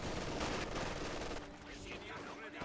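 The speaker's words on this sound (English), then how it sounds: "Conscripts are getting suppressed here by the MG in the building" Machine gun fire from a building in Company of Heroes combat, a dense rapid burst that fades after about a second into lighter, scattered battle noise, all fairly faint under game ambience.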